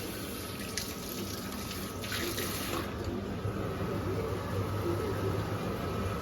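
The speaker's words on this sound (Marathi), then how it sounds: "हे आपलं असं थोडंफार राहिलेला मसाला ते आपली मम्मी असं धुवून टाकते" Tap water runs in a home kitchen, rinsing leftover masala from a pan while prawn rice is being cooked, a soft, steady stream splashing quietly with a few brief louder spatters.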